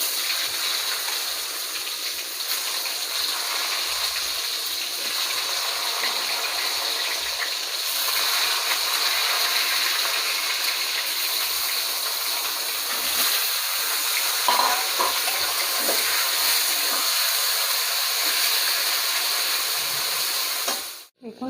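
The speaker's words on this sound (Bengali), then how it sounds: "ওই তেলের মধ্যে আমি আলুটা ভেজে নেব" Potatoes coated in salt and turmeric fry in hot oil in a wok, a steady broadband hiss and crackle that runs without a break and stays fairly loud throughout.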